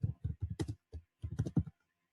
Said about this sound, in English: I'm tapping on the keyboard, sorry guys.